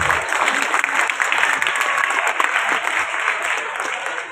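An audience at an annual day celebration in the Yashwantrao Chavan Natyagruha auditorium gives loud, dense, sustained applause that continues without a break for several seconds, with faint crowd murmur mixed in.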